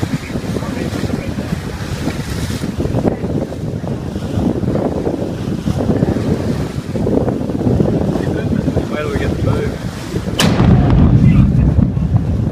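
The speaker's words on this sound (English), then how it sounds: "In 2014, this volcano exploded in Papua New Guinea and it created a huge shockwave." Volcano eruption in Papua New Guinea in 2014, with a rumbling, blustery roar of the blast and its shockwave buffeting the microphone, loud and continuous with a sharp crack near the end and faint voices underneath.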